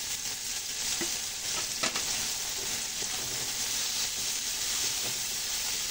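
Chopped tomatoes sizzle and fry in a pan for a chopsuey with dried shrimp and chicken liver, a steady close hiss with a few soft stirring knocks, no talking.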